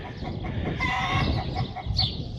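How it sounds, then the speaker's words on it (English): A farm rooster crows once, close and loud, its harsh drawn-out call rising in the middle of the moment, with some background noise and no one speaking. "There's the rooster."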